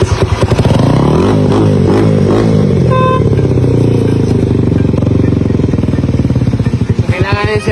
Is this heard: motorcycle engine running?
yes